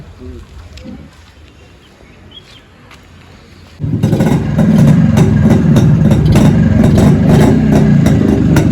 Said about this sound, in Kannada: ಸ್ಟಾರ್ಟ್ ಮಾಡಲ ಗಾಡಿ.